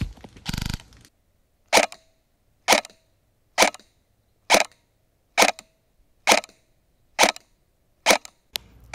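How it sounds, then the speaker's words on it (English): VFC MP7 airsoft electric gun firing .25 gram BBs in semi-auto, about eight sharp, evenly spaced cracks roughly a second apart, preceded by a short mechanical buzz, near and loud with silence between. "Now let's jump into the shooting test, which I'll be performing with my 35mm Runcam 2 using Elite Force .25 gram BBs."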